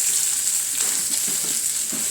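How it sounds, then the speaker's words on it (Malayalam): Garlic and spices fry in hot oil for a fish curry, a loud, dense sizzle with a bright hiss, close up, with soft stirring scrapes woven through and no talking. "നന്നായിട്ടൊന്ന് മൂക്കട്ടെ കേട്ടോ."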